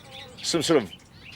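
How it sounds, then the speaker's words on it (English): Birds squabble in a tree in a canyon, with a short, loud burst of chirping and tweeting calls close by, rising over quiet background for under a second. "some kind of a bird wrestle going on in the tree."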